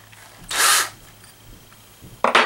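Power drill boring through a metal vise in two short bursts, a loud gritty whir at the start and another at the end with a quiet pause between, close up with no talking.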